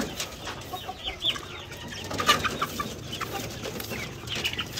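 Young chicks clucking and peeping while drinking water mixed with calamansi juice on a farm, with scattered soft calls and chirps repeating close by over steady background noise.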